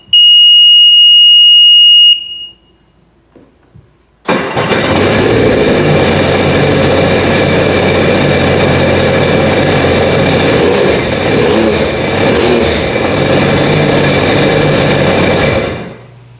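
After a brief high electronic beep and a short pause, a Sea-Doo jet ski's 1503 4-TEC engine roars steadily at close range for about twelve seconds, then cuts off.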